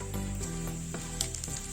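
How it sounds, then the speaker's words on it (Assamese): Whole cumin seeds and dried red chillies sizzle in hot oil in a pan, a steady soft crackle and hiss with a few small pops, faint and continuous. "এইখিনি তেলতে এতিয়া মই গোটা জিৰা দি ল'ম, দুটা শুকান জলকীয়া দি লৈছোঁ"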